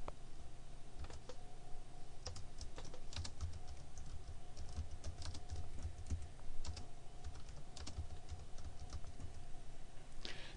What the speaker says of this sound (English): The first thing I'm going to do is click here and then type in text.